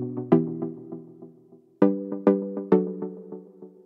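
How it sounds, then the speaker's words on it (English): Synth pluck built from a saw wave layered with a sine wave, heard solo: short, bright, percussive notes with sharp attacks and quick decays, a few clustered hits spaced unevenly over a few seconds. "The pluck is just basically a saw wave"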